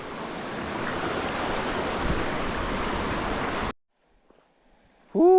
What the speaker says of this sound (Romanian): Ăsta este un râu pe care ies